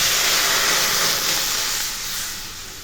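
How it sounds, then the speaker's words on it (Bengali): A little water poured into a hot kadai sizzles and hisses loudly and steadily, close by, easing slightly toward the end, with no talk over it. "আমি একটা কড়াই চাপিয়ে দিয়েছি কড়াইয়ের মধ্যে দিয়ে দিচ্ছি অল্প জল"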